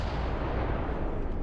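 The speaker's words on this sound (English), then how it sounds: "What was that explosion?" A heavy booming blast from the space game Starfield, played with a Star Wars modlist, rumbles in a dense low roar that fills the whole short moment, loud and alone.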